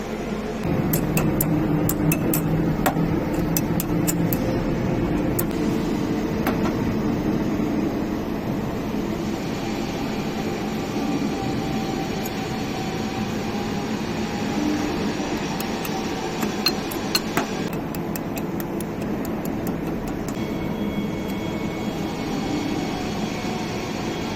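An electric motor driving a reduction gearbox drones continuously with a low mechanical rumble and a steady whine, with occasional clicks and ticks.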